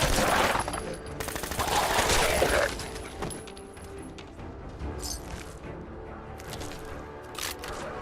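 Rapid bursts of gunfire in Fallout 4 combat, loud and dense for the first few seconds, then thinning into scattered shots and clatter.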